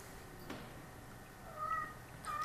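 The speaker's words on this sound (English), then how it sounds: "The cat's trying to tell me something." A cat meows faintly in a room, with a couple of short, thin calls over quiet background noise and no one speaking.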